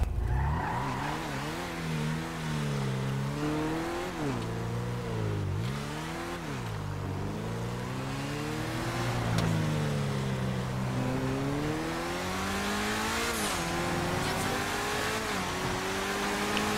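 Lampadati Tropos Rallye engine in GTA Online, loud and continuous, revving up and down through repeated gear changes with rising and falling pitch, a little tire squeal mixed in, and no talking.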